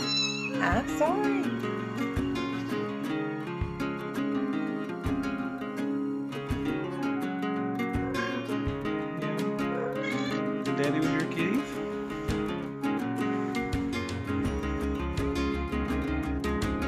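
Tortoiseshell kittens meow repeatedly and fairly close, mixed with background music and bursts of people talking.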